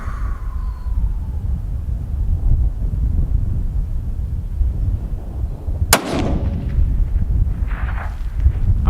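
A .308 Winchester rifle firing a Berger 168-grain VLD Hunter load at a steel plate 650–750 yards away on a hot day: one sharp, loud shot midway, over steady outdoor wind rumble.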